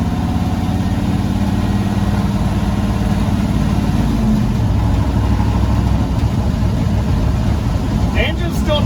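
A twin-turbo LS V8 in a rat rod runs at a steady, noisy, consistent idle with a low rumble throughout, loud and close, and a brief higher sound near the end.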